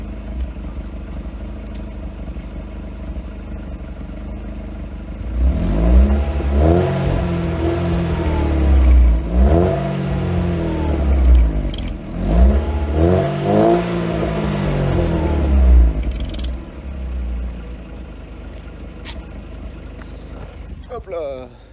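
A Mercedes SLK engine runs indoors beside a wall, idling low before several revving bursts rise and fall over about ten seconds, then settles back to a steady idle.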